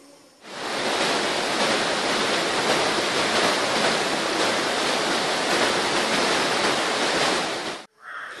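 Close and loud, a continuous roar of falling water at the Vazhachal waterfalls rises abruptly, holds steady, then drops away sharply near the end.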